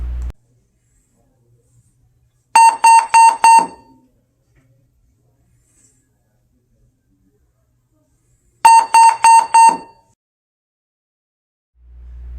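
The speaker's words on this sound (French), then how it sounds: "une tonalité d'alarme sera émise par la télécommande" Two bursts of rapid, loud electronic beeps, about five pulses each and several seconds apart, come from a radio remote control in a hospital emergency room, sounding an alarm tone.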